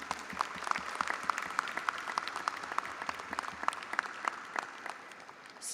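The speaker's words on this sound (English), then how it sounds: "Please join me in giving them all a round of applause." A commencement crowd at a university graduation in a large hall claps steadily for several seconds, a fairly soft, distant wash of applause with individual claps standing out.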